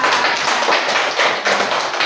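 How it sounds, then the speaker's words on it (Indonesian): A class of students applauds a classmate after a group presentation, a dense, even patter of many hands clapping close by for a couple of seconds. "Tepuk tangan buat Azra."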